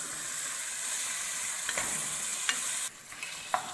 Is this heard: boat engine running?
no